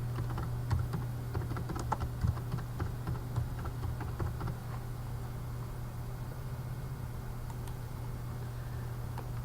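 Typing a file name on a computer keyboard, a quick burst of light close keystrokes over the first few seconds, then sparse taps, above a steady low electrical hum.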